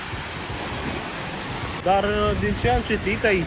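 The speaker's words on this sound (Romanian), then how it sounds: "valuri foarte mare aici." Big ocean waves on a beach produce a broad, steady roar of surf and wind buffeting the microphone, and a person starts talking over it partway through.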